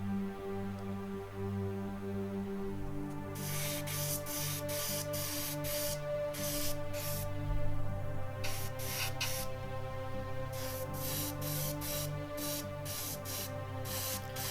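Airbrush or spray can laying a black base coat onto a Tamiya 1/12 scale Kawasaki ZZR1400 model kit in a series of short, repeated hissing bursts over a steady background hum.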